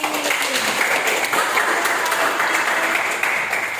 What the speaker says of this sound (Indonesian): berikan tepuk tangan untuk Aidil